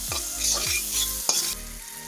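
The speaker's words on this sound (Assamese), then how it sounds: "এতিয়া মই ভালকৈ এনেকৈ লাৰি দিছোঁ।" Spices and salt stir-frying in a pan for a bottle gourd fish curry, with a spoon scraping through the oil in a few distinct strokes over a steady close sizzle.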